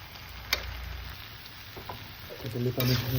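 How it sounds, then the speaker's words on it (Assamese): Tamarind water frying in a pan for a Nepali-style sesame and pea pickle, a steady soft sizzle with occasional clicks and stirring scrapes. "তেতেলী পানীখিনি দি অলপমান ভাজি ল'লোঁ।"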